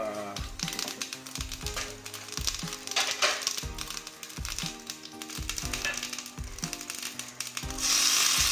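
Cumin seeds sizzling in hot oil in a small kadai for tomato rasam tempering, a steady crackling hiss with rhythmic knocks over it, swelling louder at the very end.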